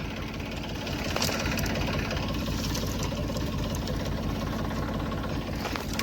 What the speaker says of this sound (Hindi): चलो खोल दे, ट्रैक्टर लेके चलेंगे अंदर।